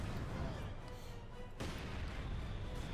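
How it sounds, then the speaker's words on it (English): Mortar and artillery fire in Company of Heroes 2 during a 1v1 match, a dense rumbling barrage of booms with a sharp impact midway, mixed under continuous game noise and faint commentary. "We got counterfire here on Gentlefox's mortar"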